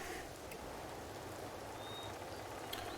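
Steady rain falling in the survival building game Empyrion, a dense even patter with occasional louder drops, continuous throughout with no talk.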